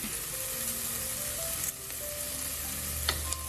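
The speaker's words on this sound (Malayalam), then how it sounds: "ഇതുകൂടാതെ ഞാൻ ഇതിലേക്ക് എടുത്തു വെച്ചിരിക്കുന്ന കറിവേപ്പിലയും കൂടെ ഇട്ട് കൊടുക്കുകയാണ്." Curry leaves hit hot oil in a frying pan over high flame while cooking Gobi Manchurian, producing a loud, steady hiss and crackle with occasional sharper pops and stirring clinks, and no talking.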